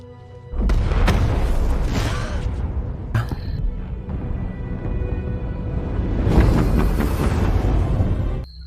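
A helicopter explodes in the Hitman: Agent 47 film, with a sudden deep boom followed by a sustained roaring rumble, a second sharp hit, and a renewed swell of blast noise near the end.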